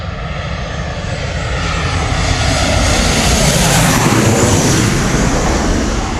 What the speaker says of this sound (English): here comes our Ryanair in from Valencia.